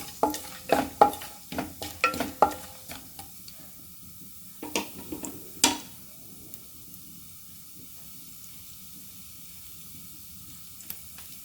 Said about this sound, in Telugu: నూనె వేడయ్యాక అందులో మన గరం మసాలా, షాజీరా వేసి కొంచెం ఇది ఫ్రై అవ్వనిద్దాము